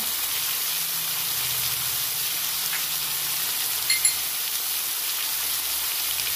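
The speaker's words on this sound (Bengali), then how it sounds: "কাঁচা আলুটা ভালো করে ভেজে নিচ্ছি" Raw potatoes and vegetable stems frying in a pan with onion, salt and turmeric give a steady, even sizzle throughout, with a couple of small clicks partway through.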